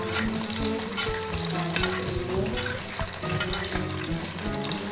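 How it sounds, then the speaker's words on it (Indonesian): An egg fries in oil in a pan, giving a loud, continuous, crackling sizzle up close with scattered pops and faint clinks throughout. "Kita kasih minyak di atasnya, biar yang di atasnya juga mengkal."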